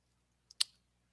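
A pair of quick, crisp computer mouse clicks, close and isolated against a quiet background, the second click louder than the first.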